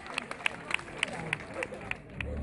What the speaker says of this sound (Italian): Questo applauso molto meritato.